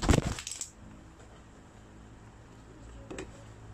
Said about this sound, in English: Nahulog na yung cellphone ko sa kalikutan.